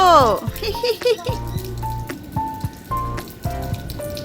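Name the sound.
rain falling on rooftop during cyclone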